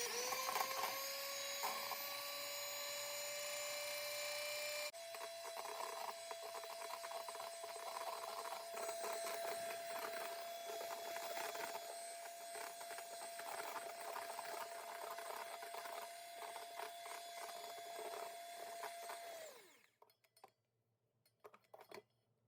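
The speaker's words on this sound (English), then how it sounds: "I'm going to use my hand mixer here and just beat this until" A handheld electric mixer beats cream sweetened with maple syrup toward firm peaks for whipped cream, a steady motor whine running continuously for most of the stretch before cutting off near the end, with no talking.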